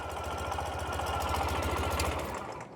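A 2012 Ural Gear Up 2WD sidecar motorcycle engine idles steadily nearby, a rapid even low throb with mechanical clatter holding constant throughout without voices.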